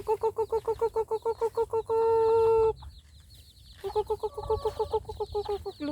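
Chickens cluck in quick, regular bursts as they run, a rapid rhythmic series of calls broken by one longer drawn-out squawk and a brief pause before the clucking resumes.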